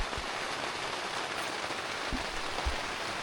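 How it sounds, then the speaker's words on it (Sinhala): Rain patters onto a tent pitched for night camping on Queena Mountain, a soft, steady hiss of drops with a few louder low thumps from heavier drops striking the fabric. "වහිනවා. ඔකට ඇහෙනවනේ සද්දේ."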